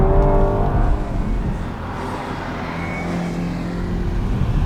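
Car at speed on a fast lap on Nexen N'Fera SUR4G extreme performance summer tires, steady engine roar with wind and road noise, close and continuous throughout.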